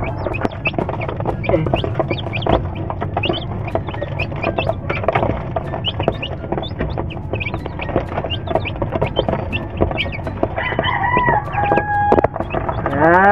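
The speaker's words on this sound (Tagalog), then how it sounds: "Sumasabay na yung bago nating sisiw sa pagtuka." Chickens and newly hatched chicks on a farm, pecking at feed: a dense, close chorus of clucks and peeping, with rooster-like calls near the end and a brief spoken word.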